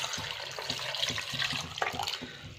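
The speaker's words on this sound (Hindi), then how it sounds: "और ये सारी चीज़ें डालने के बाद अब इसमें डालना है पानी।" Water pours steadily into a cooking pot holding beef and spices, a continuous splashing wash that runs the whole time, fairly close and with no talking.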